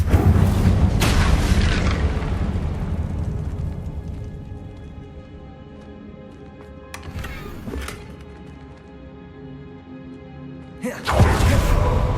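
Incendio fire spell cast in Hogwarts Legacy: a loud whooshing boom opens, followed by a fading rumble and two more sharp bursts later, with no talk over it.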